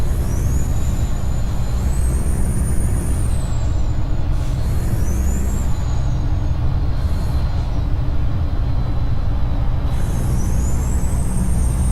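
A truck pulling a trailer in American Truck Simulator rumbles over the road in a loud, steady low drone. Thin rising and falling whines ride above it, close and continuous with no speech.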